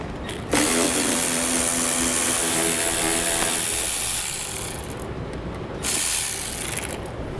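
A socket ratchet with a 5.5 millimeter socket backs screws out of a vehicle's rear corner appearance panels, loud close clicking that runs nearly continuously with one brief dip before picking up again.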